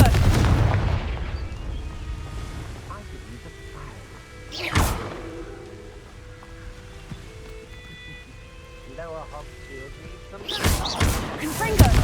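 Confringo fire spells blast in Hogwarts Legacy, with one sharp burst midway and a cluster of rapid blasts near the end, over low rumbling background and some voice.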